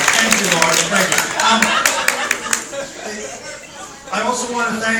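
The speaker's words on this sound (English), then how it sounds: "She needs like a special round of applause." Convention crowd applause, clapping bursts with crisp individual claps, easing toward the middle and then swelling again near the end, while a voice speaks and people chuckle over it.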